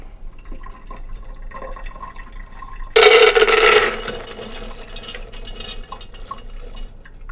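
Water pours onto baked beans being rinsed in a pot, a sudden gush of splashing liquid lasting about a second amid quiet kitchen background, then fading into faint drips.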